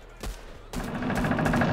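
Gunfire in Fortnite: a single shot is followed by a rapid burst of automatic fire, loud and sustained, in a game match.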